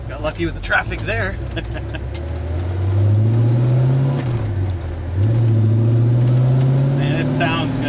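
A 1965 Pontiac GTO with a 389 cubic inch V8 and Tri-Power carburetion rumbles loud and close while driving, its deep exhaust rising and falling through two strong revving pulls, with people talking over it.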